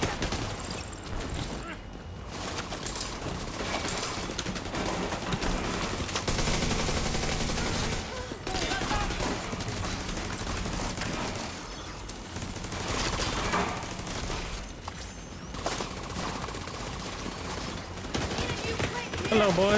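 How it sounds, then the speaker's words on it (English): Enemies in The Division 2 shooter fire sustained, rapid bursts of automatic gunfire with scattered louder shots, continuing almost nonstop at close to mid range while players talk over the battle. "Oh shit, they're already shooting at us."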